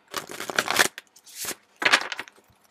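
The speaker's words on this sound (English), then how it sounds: "That was a horrible shuffle." Tarot cards are shuffled in two quick riffling bursts, a short rustling swipe sounding between them, close and crisp in an otherwise quiet space.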